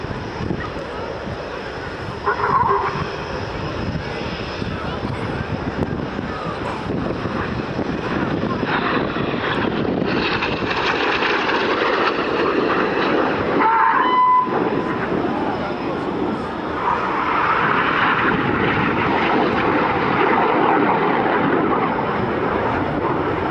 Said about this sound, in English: Closing at 800 miles an hour, they're going to cross 3 times in opposing 360 degree 6G turns.